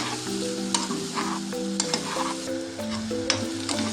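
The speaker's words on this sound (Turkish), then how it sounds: "Sebzeleri ilk öncelikle tereyağdan iyice kavuracağız dönene kadar." Vegetables sizzle and fry steadily in butter in a pan while a utensil stirs them with occasional scraping clinks, close up and with no talking.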